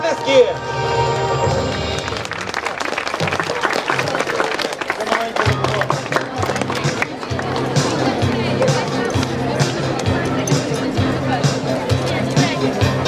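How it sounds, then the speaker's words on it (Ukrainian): Audience applause at a wheelchair racing award ceremony, a loud steady wash of clapping with crowd noise and voices mixed in throughout. "Ваші оплески!"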